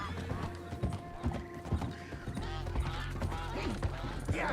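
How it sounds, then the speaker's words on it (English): In Red Dead Redemption 2, an agitated horse whinnies repeatedly while its hooves clop and shuffle close by, the nervous cries rising over a low rumble, with a voice breaking in now and then. "Oh, my horse is agitated by a predator!"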